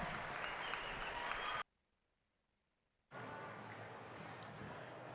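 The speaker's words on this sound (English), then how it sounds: "let's give everybody a round of applause" A crowd applauds steadily at a youth fair steer show, the clapping cutting out abruptly for over a second before resuming just as full.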